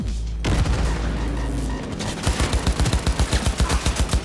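Gunfire and a grenade blast in the video game Cyberpunk 2077: a loud, dense burst gives way to a steady rapid stream of automatic fire.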